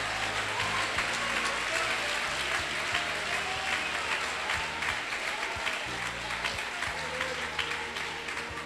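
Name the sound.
congregation clapping hands in church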